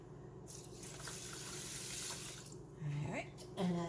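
Water runs steadily from a kitchen tap into a pot holding two cups of rice, a continuous close rush that shifts in tone as the pot fills.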